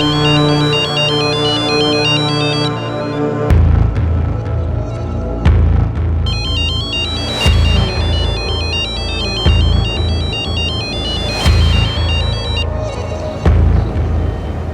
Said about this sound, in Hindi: ये रे तेरा फोन है।